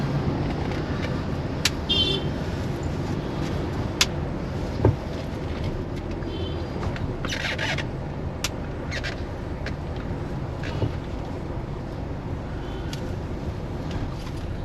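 Street traffic heard from inside a moving vehicle in a busy Sunday market area of Kolathur, Chennai: a steady low road rumble and engine hum, with occasional short horn-like tones and brief clatters over it, no talking.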